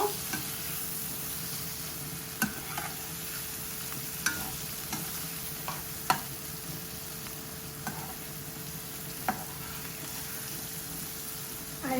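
Pomfret fish sautés in spice masala in a pan, with a continuous soft sizzle under repeated sharp clicks and scrapes of a utensil stirring against the pan at close range.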